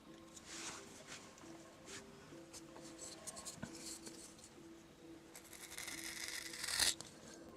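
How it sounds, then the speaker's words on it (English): A small woodcarving gouge is stropped by hand, producing quiet, rhythmic scraping strokes repeated several times, ending in a sharper, louder brush. "Then you can just strop that right through there to get that tip"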